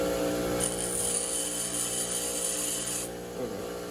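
A bench grinder works a lathe tool bit, the wheel giving off a harsh, high grinding whine while steel is pressed against it, then the contact stops and only the spinning wheel hum is left.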